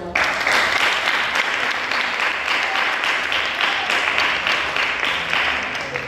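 An audience at a church youth week gathering applauds in praise, a loud, continuous roar of clapping hands that holds steady for several seconds, with some voices mixed in.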